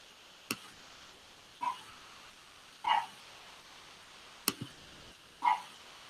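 A dog barks in short isolated yips, five or so sharp bursts spaced a second or more apart, sounding somewhat distant against a quiet indoor background.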